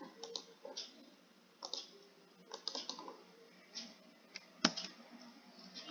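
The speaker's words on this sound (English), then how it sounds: "Click on apply button here." Mouse clicks on an apply button in software come through as a handful of faint, close clicking taps spread irregularly, with one sharper click near the end.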